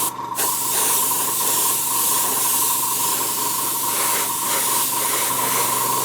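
Airbrush spraying a very thin layer of green paint onto a model APC body, a steady continuous hiss that holds at a constant loud level throughout with no breaks.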